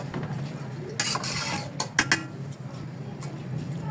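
Gentle stirring of meat in a pot for kunna pulao, with soft scraping and a few light clinks of a spoon against the pot over a low steady background, no talk.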